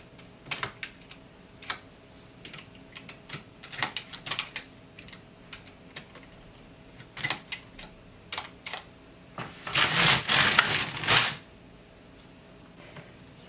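An LK150 knitting machine knits a bra top with neckline decreases. Close, irregular mechanical clicks and clacks come in short bursts, with a louder sustained carriage rattle near the end.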